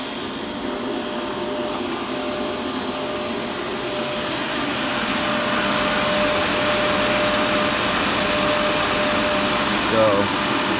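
NAVAC refrigerant recovery unit running and drawing refrigerant on a cold day, a steady loud whooshing mechanical drone that builds slightly and holds throughout.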